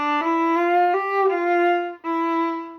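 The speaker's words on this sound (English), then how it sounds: "So I slow the bow down and it makes kind of a rounder up, up sound." Sustained viola notes bowed in a practice piece from Judas Maccabaeus, the bow slowing to nothing so each note fades round rather than stopping abruptly; a few connected notes with a brief dip between, close and alone.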